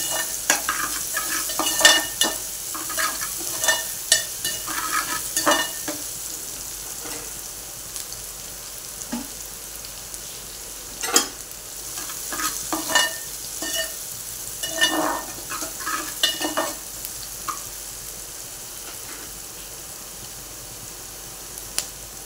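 Onion sautéing in a pan while being stirred, for a dill greens and moong dal dish: a soft, continuous sizzle with irregular scraping clicks of the spatula, close but fairly quiet.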